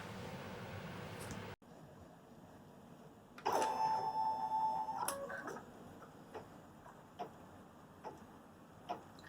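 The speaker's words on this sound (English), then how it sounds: "We're going to stitch out the positioning line for our block." An embroidery machine stitches a positioning line onto stabilizer, giving a faint rhythmic ticking and whirring with a brief louder motor run in the middle, then sparse clicks in a quiet room.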